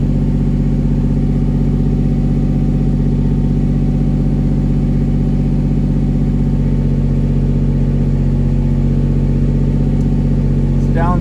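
A 1999 Lamborghini Diablo Roadster engine idles close by, a loud, steady, even drone that holds constant throughout, with a brief faint higher chirp near the end.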